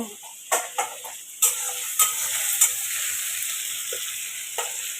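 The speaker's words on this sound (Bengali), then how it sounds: "এদিকে ডাল বসিয়েছে ওদিকে মশলা কষাচ্ছি" Spices being fried in a pan for khichuri, a steady bright sizzle punctuated by several sharp clicks and knocks of a spoon against the pan.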